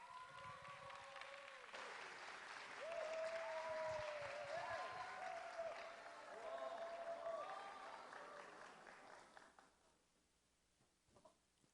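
Audience applause at a university chapel service welcoming a pop singer onto the stage, a broad wash of clapping and crowd noise with a melodic tone running through it, building then fading out near the end.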